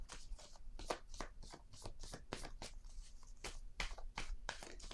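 A deck of cards being shuffled and drawn for a surprise reading, with a steady series of soft riffling flicks and slaps at an even pace, close but faint, no voice.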